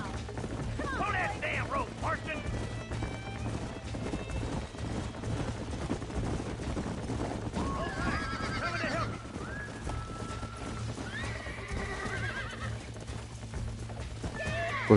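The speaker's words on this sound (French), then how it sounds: "Capture un cheval sauvage au lasso." Wild horse being lassoed in the video game Red Dead Redemption, repeated shrill neighs and whinnies over scattered hoof clops and a low steady hum, with voices talking at times.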